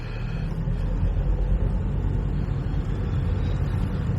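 A car heading from Ashford's Eureka Business Park toward the M20 motorway gives a steady, close low rumble of engine and road noise, with no talking.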